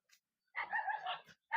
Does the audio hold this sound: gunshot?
no